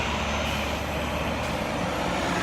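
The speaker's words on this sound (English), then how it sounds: "chartered buses." Chartered buses rolling in, a steady low diesel drone from several large vehicles arriving, continuous and fairly close with no talk over it.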